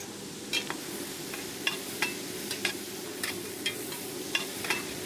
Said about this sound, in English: stir that well in with the onions